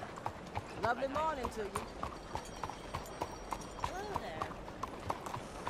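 Horse hooves clip-clop steadily at a walking pace in Red Dead Redemption 2, a continuous rhythmic clatter, fairly soft, under passing townsfolk calling out greetings.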